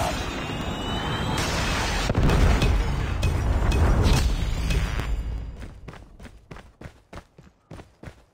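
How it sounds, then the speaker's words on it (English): A predator missile strike in Call of Duty Mobile during Team Deathmatch: a long, loud, roaring explosion that fades into a string of sharp, rhythmic gunshots or footsteps. "Friendly predator missile."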